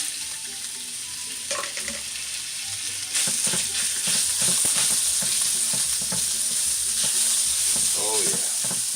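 Ground pork sizzles steadily in a hot wok, with a constant frying hiss that swells louder partway through and intermittent scraping stirs, close and without talk.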